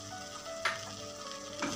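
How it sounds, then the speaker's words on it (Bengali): Spice paste of salt, turmeric, coriander, cumin and Kashmiri chilli powder sizzles softly in a pan for mutton curry, with two brief scraping stirs of a spoon over the steady frying hiss. "সমস্ত উপকরণগুলো খুব ভালো করে মিক্স করে নেবো এবং ভালো করে মশলাটাকে কষিয়ে নেবো।"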